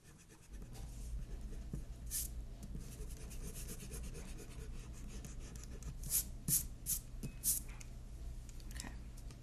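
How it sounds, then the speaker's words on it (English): Eraser rubbing away pencil lines on paper while lettering a drawing, soft scratchy back-and-forth scrubbing that is quiet and close, with a few louder strokes near the end. "Let's erase all the extra stuff."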